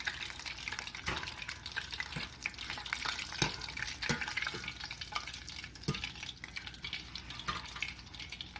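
Chicken tenders frying in oil: a close, steady crackling sizzle with sharp pops and clicks scattered throughout, with no talking.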